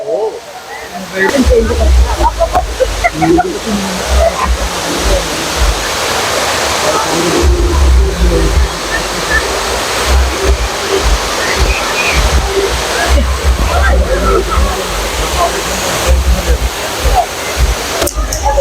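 A large man-made waterfall in Ernakulam roars loudly and steadily close by, a broad rushing wash of falling water with people talking over it.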